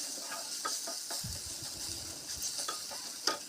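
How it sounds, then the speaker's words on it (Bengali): Eggplant slices sizzle in hot oil in a pan, a steady close frying hiss with occasional stirring clatter and soft scraping bumps. "আমরা যখন বেগুন ভাজা করি সেম টু সেম এরকম ভাজা করে"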